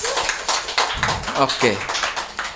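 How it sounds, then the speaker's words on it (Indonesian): Audience at a live songwriters' music talk event clapping in a dense, steady patter while a voice talks over it throughout. "Oke, kita tepuk tangan dulu."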